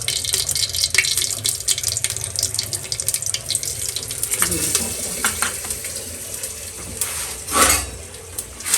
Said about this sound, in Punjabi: ਉਹ ਟੂਟੀ ਮੰਮੀ ਨੇ ਆਪ ਚਲਾਈ ਹੈ